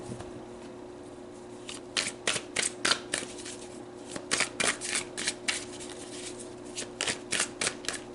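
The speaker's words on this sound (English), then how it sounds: "So let's pull some more cards." Tarot cards being shuffled close up, a series of quick riffling bursts repeating in an uneven rhythm over a faint steady hum.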